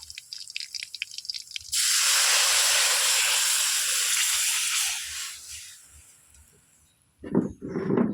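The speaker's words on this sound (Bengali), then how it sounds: "এবার আমি কিছুটা পরিমাণ কাজু বাদাম আর কিছুটা পরিমাণে কিশমিশ দিয়ে নেব এর মধ্যে আমি এবার নারকেলের দুধটা ঢেলে দেব" Coconut milk is poured into a hot pan of fried onions, cashews and raisins while making a radish tok. A few drips come first, then a loud, sharp sizzling hiss bursts up close and slowly fades, followed by a clatter.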